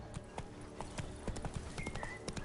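Roach, Geralt's horse in The Witcher 3 on PS5, gallops in a fast, steady rhythm of hoof clip-clops over a dense game soundscape, with a brief whinny-like tone near the end.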